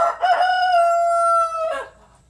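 A rooster in a farm chicken pen gives one loud, close, clear crow lasting over a second, with brief clucking at the start and end and no talk.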